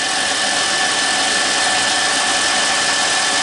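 A Harbor Freight mini lathe motor runs steadily alone, a loud, continuous whine with constant tonal hum and broadband buzz throughout, no changes in speed.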